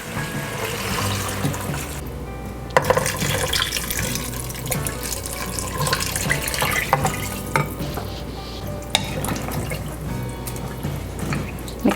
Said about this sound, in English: Now I'm going to add some water over top.